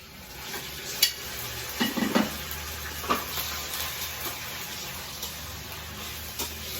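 Chicken going into a hot pan with onion, a low crackling sizzle under scattered clinks and stirring knocks, fairly quiet and close throughout.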